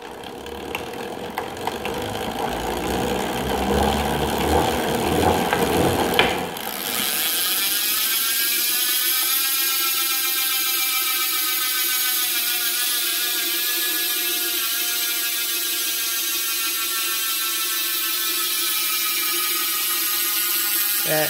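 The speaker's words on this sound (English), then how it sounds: "now the rear wheel, of course, it's going to have a more pronounced effect since we can spin it really, really fast" An aero bicycle rear wheel is spun fast on its own, with a clattering mechanical start. It then settles into a loud, steady whir and a fast, continuous freewheel ratchet buzz that keeps on without any talk.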